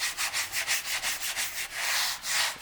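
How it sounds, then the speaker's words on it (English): Filler primer on an E30 body panel being wet sanded by hand with 400 grit sandpaper, heard as close, rhythmic back-and-forth rubbing strokes, about a dozen quick passes and then two longer ones, with no speech. "hit this with a wet 400 grit sandpaper"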